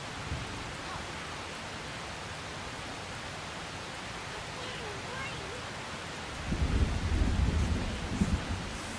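Heavy rain pours down steadily in a storm, with a deep rumble of thunder rolling in near the end; a person is caught outside in it and murmurs faintly beneath the downpour.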